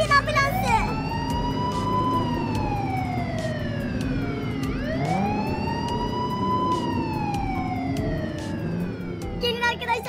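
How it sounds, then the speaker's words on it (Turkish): A Minecraft ambulance siren wails, sweeping up and down in long repeated cycles, loud and close, with a rumbling engine underneath and brief chatter at the edges. "gidiyoruz, takip edin ambulansı"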